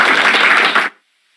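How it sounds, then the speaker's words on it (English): A short, oddly uneven burst of hand clapping, loud and close, lasting under a second before stopping abruptly into silence. "That was a weird set of clapping, man."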